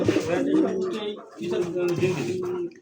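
A pair of black Lahori pigeons coo in two low, rolling bursts close by, with a voice talking over them.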